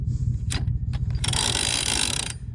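A ratchet jack lifts a vehicle off ice, with clicking pawl strokes and a long grinding, rasping stretch, close and fairly loud, with no talking.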